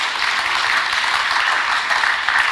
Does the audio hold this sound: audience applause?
yes